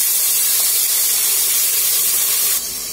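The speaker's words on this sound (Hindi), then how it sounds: "अब हम अपना ये एक कटोरी फ्रोजन मटर डालेंगे।" Frozen peas tipped into hot oil in a pan with fried cashews give a loud, steady, close hissing sizzle lasting about three seconds, easing slightly at the end.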